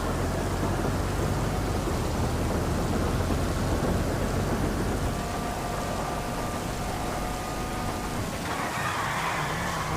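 Steady heavy rain with rumbling thunder rolling throughout in GTA V Online, dense and continuous, with a faint Bravado Banshee 900R engine hum underneath and no voices.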